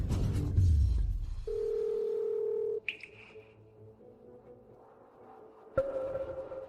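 A telephone call being placed: a steady electronic dial or ringback tone holds for about a second and a half, followed by a brief higher beep and a later tone burst, all fairly clear with no voices.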